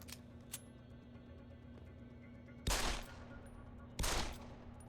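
9mm pistol fire in Deus Ex: Human Revolution: two loud, sharp shots about a second apart ring over a quiet, humming game background.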